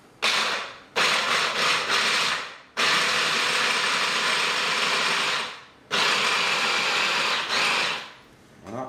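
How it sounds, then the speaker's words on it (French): A kitchen blender mixes walnut tartlet ingredients in four loud, steady whirring bursts separated by short pauses, with no talking. "On va commencer à mixer une première fois."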